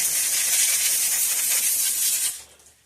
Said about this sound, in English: Now see if we can take a can of air and blow it off there.